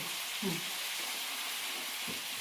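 Fish fries in plenty of oil in a pan with a steady, close hiss of sizzling. Faint clatters and a brief low voice-like sound come through underneath.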